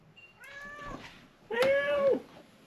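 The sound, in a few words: cat meowing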